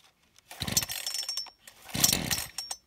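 Starter cord of a Sterwins PCS2-35.3 petrol chainsaw pulled twice, each a rough, rasping whir lasting about a second, close by and fairly quiet, with a pause between pulls and no talk.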